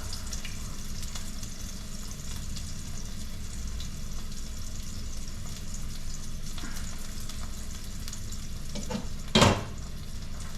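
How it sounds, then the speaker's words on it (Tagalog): Ginger sautés in a pan with a steady, moderate sizzle that runs throughout, broken near the end by a single sharp clank of a utensil against the pan. "Ginigisa na natin yung ating ginger"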